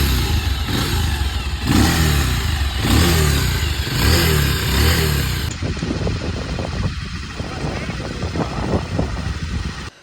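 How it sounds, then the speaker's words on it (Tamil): A restored motorcycle engine revs hard and close, a loud, steady roar with rhythmic throttle swells that shifts to a rougher, choppier running note partway through. "வண்டி ரெடியான குதூகலத்தில் வண்டியை முறுக்கிறது என்ன, ஓட்டி பார்க்குறது என்ன"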